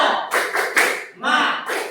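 Children clap a short rhythmic tepuk semangat routine in a classroom, a few quick bursts of claps in a pattern, mixed with young voices chanting along.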